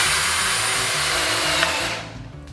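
An Einhell 18V brushless drill-driver whines at high speed as it drives a screw into soft pine wood, loud and close, then winds down in the last half second.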